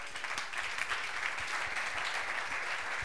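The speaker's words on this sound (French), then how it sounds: "Est-ce qu'on peut acclamer la parole du Seigneur?" Church congregation clapping and cheering in praise during a French-language sermon, a dense, steady burst of applause filling the room for a few seconds with no voice over it.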